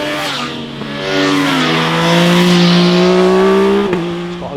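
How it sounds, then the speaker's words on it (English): An 800cc three-cylinder engine of a 2022 MV Agusta F3 RR supersport motorcycle, rated at 145 bhp, revs loud and close, climbing steadily in pitch and holding a rich snarl before blipping near the end. "This has got 145 bhp, 3-cylinder, sounds fantastic."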